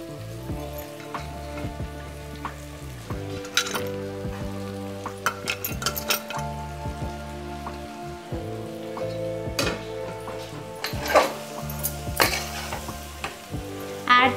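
Mushrooms frying in a pan for mushroom biryani while being stirred, with steady close sizzling and repeated scraping, clinking strokes of the spoon against the pan.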